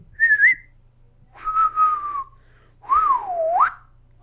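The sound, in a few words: excited whistle imitated by mouth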